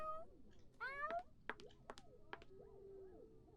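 A cat in a Halloween-themed video game build meows several times in quick succession, bright rising and falling calls alongside short clicks and game sound effects, fairly close and clear.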